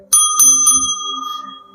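A small handheld bell is struck three times in quick succession, each bright metallic ding ringing close and loud before fading in a shimmering decay.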